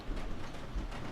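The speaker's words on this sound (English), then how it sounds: "And it just started pouring." Heavy pouring rain makes a steady, dense wash of noise that holds at an even level throughout, with no pauses or voices.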